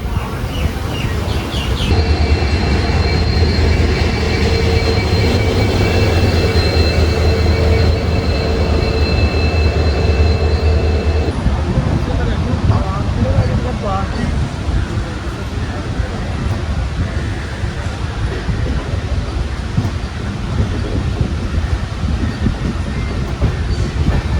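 The Kozhikode Jan Shatabdi, with LHB coaches, pulls out of Shoranur Junction. A loud, continuous rolling rumble with a steady tonal hum and faint rhythmic clatter runs throughout, and murmured voices sit in the background.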